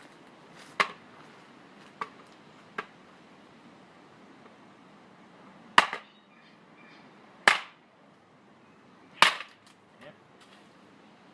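A DIY training quarterstaff strikes something in sharp, isolated cracks: three lighter knocks, then three louder snapping impacts spaced a couple of seconds apart as it fractures, close and clear over a quiet room, with a brief word spoken.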